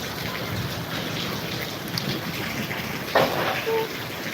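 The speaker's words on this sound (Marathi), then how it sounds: "जोरदार पाऊस चालू आहे" Heavy rain pours down in a steady roar, with a few brief louder knocks and splashes near the end.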